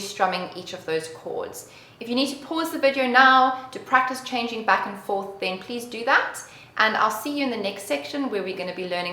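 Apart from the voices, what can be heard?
No everyday noise stands out behind the speech.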